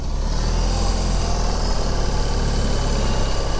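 A 2021 BMW R 18 motorcycle engine runs at the start of a ride, a loud, steady low rumble with constant vibration and no break, close to the microphone.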